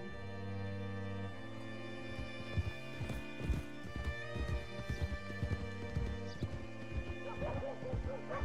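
A horse in the video game Red Dead Redemption 2 gives a loud, close neigh over a sustained musical score, followed by rhythmic clip-clop hoofbeats and snorts.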